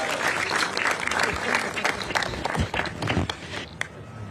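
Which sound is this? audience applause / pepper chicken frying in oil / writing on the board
audience applause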